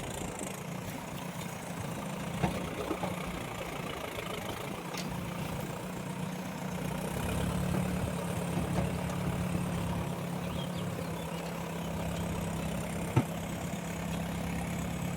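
A vehicle engine idles and runs steadily at low speed, hauling a load of paddy sacks with people riding on top; a continuous low rumble with a couple of faint clicks and no talk.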